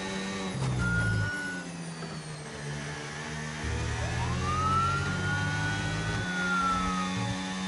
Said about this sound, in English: that was a short police siren because I fucked up the sound effect there